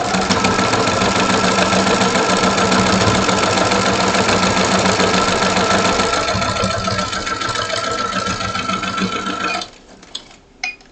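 A sewing machine runs steadily, stitching through fabric with a dense, continuous mechanical whir that stops near the end, leaving brief faint handling clicks.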